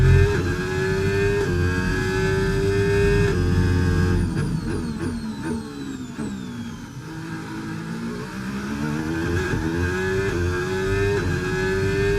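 Formula 1 race car engine on a fast lap in F1 25, a loud continuous high-revving whine that climbs and drops through repeated gear shifts, with no talk over it.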